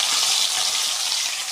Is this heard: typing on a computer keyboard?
no